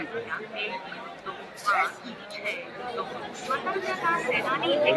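Steady murmur of a large crowd at Prayagraj railway station amid the Kumbh Mela rush, overlapping voices near and far that swell slightly toward the end.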